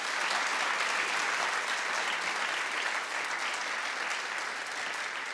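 A studio audience on a daytime talk show breaks into steady, dense applause that holds at an even, full level throughout without any talking over it.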